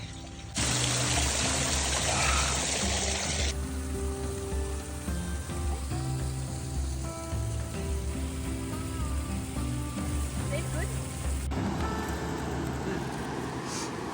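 Water trickling and pouring down like a natural shower beside a jungle-like section of the Fisherman's Trail on Portugal's Rota Vicentina, a steady close splashing hiss that runs throughout with no one talking.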